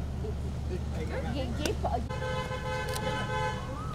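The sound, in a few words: car approaching and honking its horn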